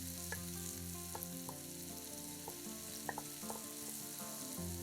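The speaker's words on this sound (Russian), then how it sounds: "Все обжариваем до золотистости лука." Chopped onion fries in vegetable oil in a pan with a steady soft sizzle and occasional light clicks, under a low background hum and music, no voices.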